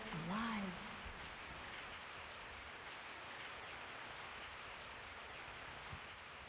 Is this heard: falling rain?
yes